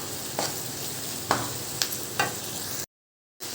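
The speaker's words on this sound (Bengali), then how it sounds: "যতক্ষণ ড্রাই হয়ে শুকনোর মতন কষাটা না হচ্ছে মশলাটা, ততক্ষণ এটাকে কষতে হবে" Masala spice paste stir-fried in a pan over high heat for boal fish curry, a steady sizzle broken by a few sharp scraping strokes, cutting to a brief silence near the end.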